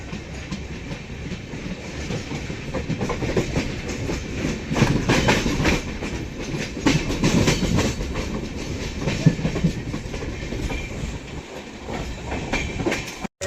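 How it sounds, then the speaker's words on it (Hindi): Amrit Bharat Express rolling into Dhanbad Junction on its inaugural Howrah–Anand Vihar special run, a steady close rumble with clickety-clack of railcar wheels throughout, alone with no talk. "तो भाई ट्रेन पहुंच रही है अपनी धनबाद जंक्शन"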